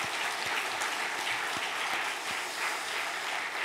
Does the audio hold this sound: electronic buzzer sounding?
no